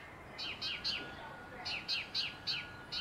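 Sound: small birds chirping outdoors

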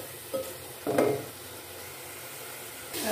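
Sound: tomatoes and spices (red chilli, coriander, turmeric, salt) cooking in pan

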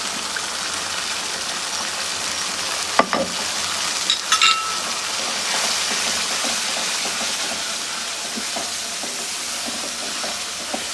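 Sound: spice masala frying in oil for spicy chicken curry

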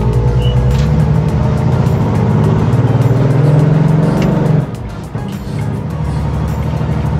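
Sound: International Scout accelerating on a test drive

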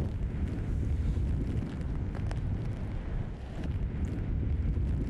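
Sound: typhoon wind gusts on Okinawa

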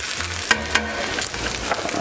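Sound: garlic toasting in a pan, pan being shaken and flipped

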